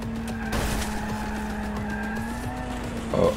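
Car skidding in a Night City video game: an engine drone runs throughout, with a sharp screech and scuff near the end and no talking.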